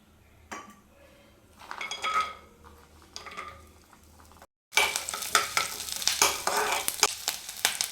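Onions and garlic fry in oil in a pan, soft sizzling broken by scraping stirs and clinks of a utensil against metal, growing louder and busier in the second half after a brief cut.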